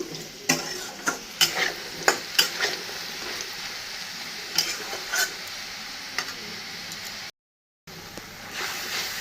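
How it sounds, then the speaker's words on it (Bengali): Potatoes fry in a pan with a steady close sizzle, broken by sharp clicks and scrapes from stirring, then a brief gap before the sizzling resumes. "আলুটাও ভেজে নিচ্ছি তারপরে পনিরটা ভেজে নেব"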